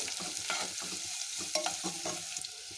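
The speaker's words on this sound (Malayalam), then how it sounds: "ഇനി നമുക്കിതൊന്ന് വറുത്തെടുക്കാം. ഇനി നമുക്കൊരു പാനിനകത്തിലേക്ക് കുറച്ച് വെളിച്ചെണ്ണ ഒഴിച്ചു കൊടുക്കാം." Beetroot frying in coconut oil in a pan, with a steady close sizzle broken by repeated stirring scrapes and clatters through the whole stretch.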